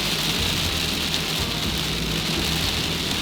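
Heavy rain drumming on a car during a road trip in Baja, Mexico, a loud constant wash of drops with a low rumble underneath, no talking.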